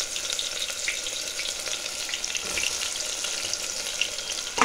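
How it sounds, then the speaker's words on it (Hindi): Chopped onion with bay leaf, cumin, black pepper, mace, green cardamom and cloves frying in hot oil for mutton korma pulao, a steady dense sizzle with faint stirring crackles throughout, close and continuous, no talking. "मेरा तेल गरम हो चुका, अब मैं इसमें एक तेजपत्ता, जीरा, गोल मिर्च, जावित्री, थोड़ा सा हरी इलायची, लौंग मैंने दिया और ये प्याज कटा हुआ दिए।"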